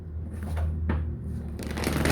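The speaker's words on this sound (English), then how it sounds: "Send your energy into the cards now while I'm shuffling" A deck of tarot cards being shuffled up close, with two riffling bursts of papery flutter over a low background hum and no talking.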